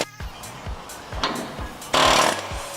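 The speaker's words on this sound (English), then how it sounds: "we have an air gun that all it does is hammer in" A pneumatic air hammer used to remove a car's inner tie rod fires in rapid repeated bursts, loud and harsh, with a sharper, louder blast near the end.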